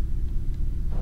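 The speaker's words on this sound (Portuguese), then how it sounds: "Olha, barulhinho de trovões, maneiro." Thunder in the Saturn homebrew game Hellslave rolls as a low, steady rumble throughout, moderately loud with no voices over it.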